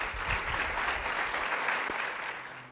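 Football fans who collect Valencia Club de Fútbol shirts get a dense, steady round of applause from a crowd at a kit presentation event, loud and sustained throughout before tapering slightly at the end.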